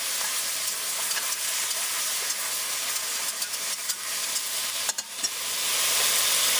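Leeks and celery sauté in a pot for braised short ribs, giving a steady, close broadband sizzle with a few brief stirring clicks and no talk.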